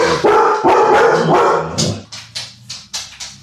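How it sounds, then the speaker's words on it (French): A pet dog barks close by indoors: first a dense burst of loud, overlapping barks, then a string of shorter, evenly spaced yaps, with no voices over it. "on reprend les bonnes habitudes avec mon toutou qui aboie"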